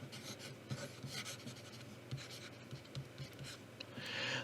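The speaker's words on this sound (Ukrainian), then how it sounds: "знизу пишу планшетом" A pen moves across a graphics tablet while someone writes, making faint, soft scratching and rubbing strokes with small taps, close and quiet for a few seconds.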